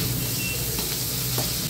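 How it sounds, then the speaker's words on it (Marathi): Onion sautés in two to three spoonfuls of oil, a brief, steady close sizzle with a soft hiss. "कांदा परतून घ्यायचा।"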